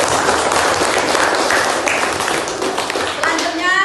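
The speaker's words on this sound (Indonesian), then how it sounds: "Silakan beri tepuk tangan untuk kelompok 2" A classroom audience claps for a student presentation group, a dense burst of hand clapping with voices mixed in, fairly close and loud throughout.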